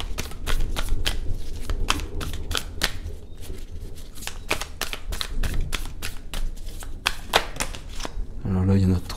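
Tarot cards are shuffled and drawn in a long run of crisp, rapid riffling and snapping close by, with a voice speaking in French over much of it.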